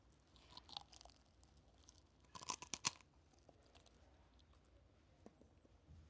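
Crispy Filipino fried chicken being bitten and chewed up close, a cluster of sharp crunches in the middle amid softer chewing, fairly quiet with no talk.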